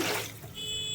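A brief rush of water from a small jug pours into a cooking pot, loud and close, then settles into a quieter trickle.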